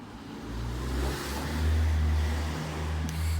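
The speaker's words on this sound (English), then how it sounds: "A lot of traffic." Night road traffic with a car accelerating past, a low engine rumble that swells and rises in pitch, fairly close and continuous, with no talking.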